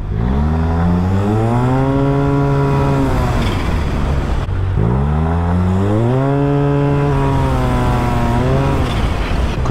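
A Yamaha TMAX 530 scooter fitted with a turbo, out on a road test, revs hard twice in succession, its engine note climbing through each gear as it accelerates, loud and close, with no talking.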